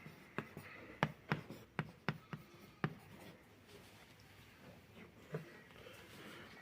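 Stylus writing on a 12 inch LCD writing tablet, a run of quick tapping strokes close to the mic, then softer scattered marks, with faint speech in the background.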